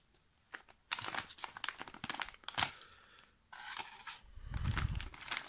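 A plastic and cardboard pack of miniature figures is torn open by hand. Close, intermittent bursts of crinkling and tearing come with short pauses between them, ending in a longer rustle. Nobody speaks.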